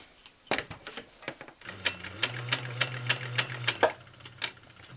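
A domestic sewing machine stitches a quilt block seam in short whirring bursts, then one longer run with a steady low hum under rapid needle ticks, close and fairly quiet.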